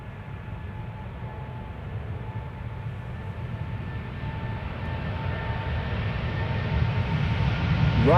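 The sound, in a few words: Delta Airbus A350 taking off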